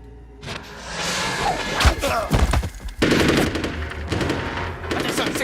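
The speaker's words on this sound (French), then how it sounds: "c'est quoi ces coups de feu?" Rapid machine-gun fire and scattered gunshots in a tense armed standoff, loud bursts and sharp cracks repeating throughout with thuds between volleys, up close and dominating the scene.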